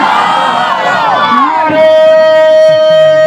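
A crowd at a Jashn-e-Ghaus-ul-Bara religious conference shouts Naara-e-Takbeer together in one loud, reverberant burst. A steady held tone lingers afterward over a faint murmur.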